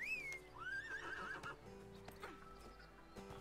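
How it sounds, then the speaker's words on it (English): A horse in the ArcheAge video game whinnies loudly, a rising then falling neigh, followed by a few soft hoof clops over quiet background sound. "I'm gonna get on my horsey."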